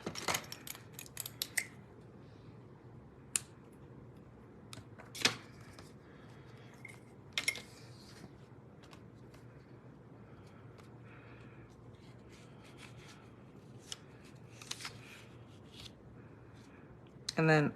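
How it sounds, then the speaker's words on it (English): Scissors snip paper during a paper-craft project, giving a few sharp, isolated cuts and small clicks spread across a quiet room tone with faint handling noise. "Okay, scissors."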